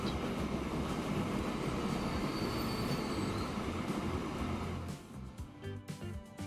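A Baldwin steam train rolls along a track in the game Transport Fever, giving a steady, loud rumbling roar with metallic rail noise that thins out and fades over the final second or so.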